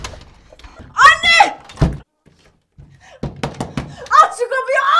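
Loud, heavy thumps of a fist pounding on a locked door in a Turkish TV drama, struck in uneven bursts as voices shout over and between the blows.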